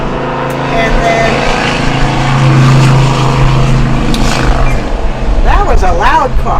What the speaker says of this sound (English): that was a loud car